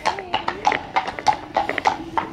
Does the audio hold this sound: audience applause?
no